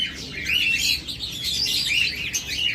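Several small caged birds, including lovebirds and cockatiels, chirp and twitter busily together, close by, with overlapping high tweets in an ongoing chatter.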